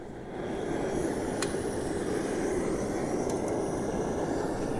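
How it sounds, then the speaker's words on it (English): A Fox gas camping stove, fired up with a full tank of gas under a kettle holding a mug of water, gives off a steady, loud broadband roar that starts abruptly and holds constant at close range. "Fire up the stove."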